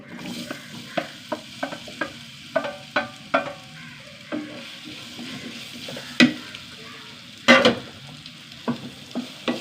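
Ripe banana pieces sautéing in ghee, stirred with a spoon in a pan: repeated soft scraping strokes and light sizzling, close and fairly clear, with occasional louder clinks of the spoon against the pan.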